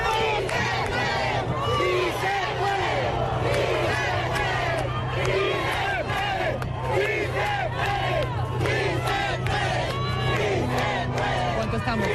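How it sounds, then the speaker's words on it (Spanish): A large street crowd in Caracas at a rally welcoming Guaidó chants and shouts in unison, a dense, loud, continuous roar of many voices with rhythmic cheering throughout. "gritos de "sí se puede""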